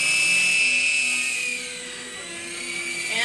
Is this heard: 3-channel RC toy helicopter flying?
yes